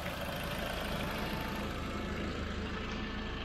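An Audi A3 1.8T Quattro with 180 hp idles steadily, a dense, even engine hum with a faint knocking texture, heard close and alone without voices.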